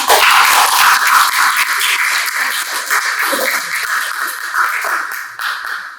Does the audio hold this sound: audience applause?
yes